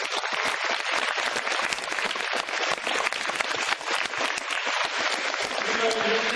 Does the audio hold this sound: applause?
yes